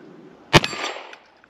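A Remington 1858 revolver fires a single sharp, loud shot with a ringing metallic tail that fades over about half a second, outdoors with nothing else nearby.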